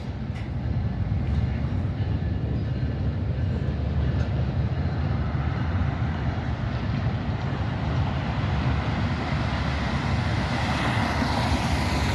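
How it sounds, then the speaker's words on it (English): A train rumbles past at close range in a broad, steady roar, its bell ringing faintly somewhere in the background, with no voices. "Yo, train, show yourself. I hear your bell."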